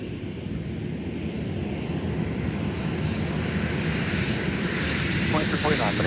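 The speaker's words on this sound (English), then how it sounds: "Here's our Sun Country arrival from Des Moines." A Sun Country airliner arrives at Minneapolis–Saint Paul airport from Des Moines, its engines producing a steady, swelling roar that grows louder across the clip.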